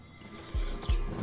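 A horse in the Desperados 3 video game gives a short snort and whinny with hoof clops, fairly faint under a steady background hum.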